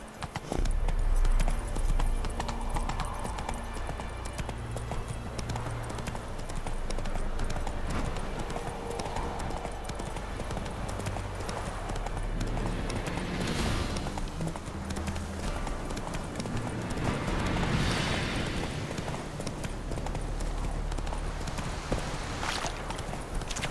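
A horse's hooves clop steadily and continuously in The Witcher 3, a dense, rhythmic galloping heard close and loud throughout, layered with game ambience and music.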